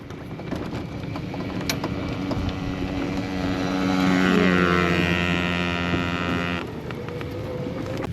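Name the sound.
small dirt bike motorcycle riding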